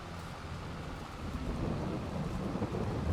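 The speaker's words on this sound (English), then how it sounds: "That's a bit of thunder and all." Thunder rumbles beneath steady rain in a farming video game, a dense low roar with rainfall hiss that swells slightly louder partway through and continues without any voices.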